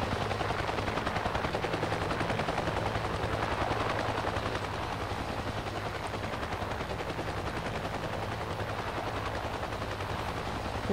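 A helicopter in the Gunship III video game flying with gunfire, a constant rotor drone and rapid machine-gun bursts rattling throughout, fairly loud and unbroken, without any talk.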